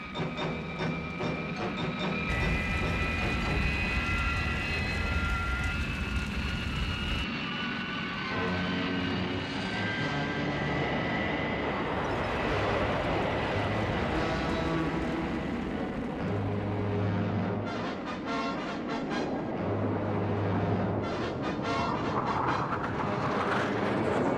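Thunderbird 2's aircraft engines roar through a steep dive, a loud continuous drone with shifting whining tones and rumbling surges, no voices over it.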